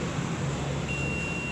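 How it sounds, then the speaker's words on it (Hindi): Multimeter continuity beep while probing a mobile phone mic circuit, a single steady high tone starting midway and holding to the end over a hissy, noisy background. "यही वाला बीप कर रहा है"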